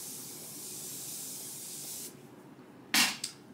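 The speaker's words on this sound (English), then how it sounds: "And then I ran out of my setting spray, so I'm just gonna use this one." Makeup setting spray hisses out in one sharp close burst, then a shorter second spritz, over a quiet room hiss.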